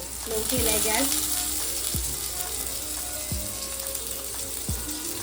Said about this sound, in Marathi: स्नेहा आता इथे कोलंबी फ्राय करते